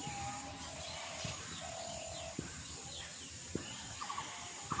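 A few short bird chirps and calls ring out over a steady high-pitched hiss and faint background noise.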